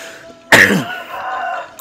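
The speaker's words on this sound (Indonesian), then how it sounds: "maaf, saya batuk" A man gives a single sharp, close cough, followed by a brief raspy throat-clearing tail, in an otherwise quiet room.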